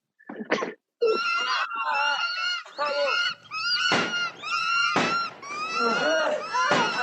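Birds squawking and honking in a low-budget movie scene: repeated harsh, goose-like calls in quick succession, loud and near, one after another across the whole stretch.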